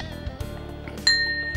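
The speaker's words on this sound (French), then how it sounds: "la cloche vient de retentir" A kitchen oven timer bell rings while a Champagne-style tourte with andouillette de Troyes and Chaource bakes. One bright, sustained ring starts about two-thirds through and stands clearly above a low kitchen background.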